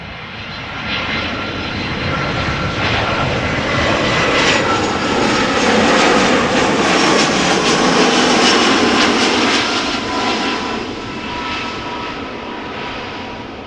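A jet airliner lands at Amsterdam Schiphol Airport on runway 06, its loud, steady engine roar building and holding throughout with a broad rushing noise, close and continuous with no talk.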